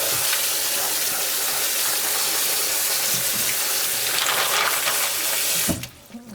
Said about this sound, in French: Donc là ce que je vais faire, c'est juste les re-rincer un petit coup.